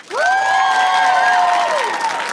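A live comedy crowd-work show audience cheers and claps, with sustained rising whoops and whistles over a steady wash of applause, loud and close throughout.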